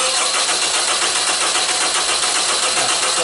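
A 2001 Honda CR-V with a crank-no-start fault turns over on the starter, a loud, steady, close cranking whir that continues without catching for the whole stretch, no voice.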